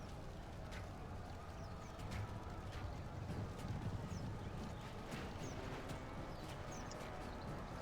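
Horses gallop in a cavalry charge in the medieval strategy game Stainless Steel, a dense continuous drumming of hooves with scattered clicks and faint calls underneath, steady and moderately distant.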